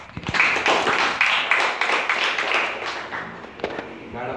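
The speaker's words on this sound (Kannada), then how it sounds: "ಧ್ಯಾನಕ್ಕೆ ಒಂದು ದೊಡ್ಡ ಚಪ್ಪಾಳೆ." An audience gives a round of applause at a meditation gathering, a dense burst of many hands clapping that swells and then tapers off with a few final claps, close and fairly loud.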